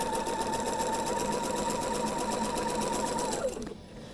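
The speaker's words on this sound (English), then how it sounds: "and then we'll sew that seam, pull the pin, and continue on to the end of that seam" A sewing machine stitches a quilt block seam with a fast, even, continuous chatter close up, then stops near the end.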